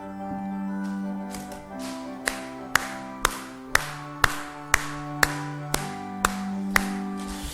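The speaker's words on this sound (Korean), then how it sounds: "찬송가 350장을 우리 박수하면서 함께 찬양 드리겠습니다" A church congregation at a Sunday service claps in a steady, even beat while hymn 350 plays, the sharp claps landing regularly over sustained organ-like chords that start alone before the clapping joins.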